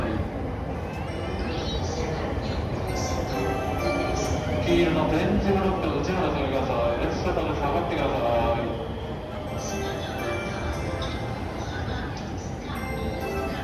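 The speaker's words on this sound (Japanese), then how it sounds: "だいたい21時25分頃列車が入線してきました。" A Sunrise Seto and Sunrise Izumo sleeper train rumbles steadily into a station in Japan, a continuous low mechanical roar with clanking and squealing, while people talk nearby in the background.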